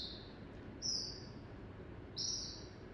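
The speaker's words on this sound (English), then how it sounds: "another bird that we recognize, black phoebe, and again, this is not a real sound, it's a generated sound." A computer-generated black phoebe call, synthesized in Pure Data, sounds twice as a bright, thin whistled chirp over a soft, steady background hiss, the two calls about a second and a half apart.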